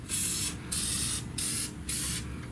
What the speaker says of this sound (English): I'll spray these injectors.